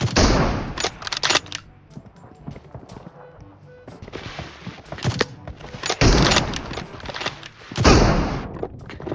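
Video game gunfire crackles in rapid bursts and volleys, with loud clusters of shots separated by quieter gaps.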